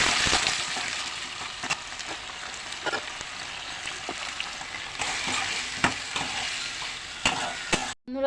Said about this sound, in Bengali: গাজর আলু ভাজা চাপিয়ে দিয়ে